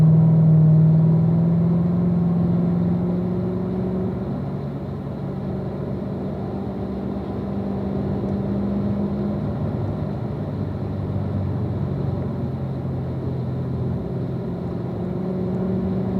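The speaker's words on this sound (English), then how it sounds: "just accelerate all the way up that straightaway" Steady droning engine note from inside a car accelerating along a track straightaway at Ron Fellows after an upshift into fourth gear, a low continuous rumble with a slowly shifting pitch, heard alone without talk.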